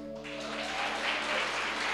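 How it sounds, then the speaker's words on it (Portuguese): Congregation applause swells during a family worship service in church: a wash of clapping builds steadily over a couple of seconds, with a brief sustained tone fading in the first moments. "Olha o Rafael aplaudindo."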